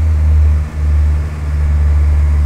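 Cessna 172 piston engine in flight with power reduced, a steady loud low drone and propeller hum filling the cabin throughout, with one brief dip in level early on.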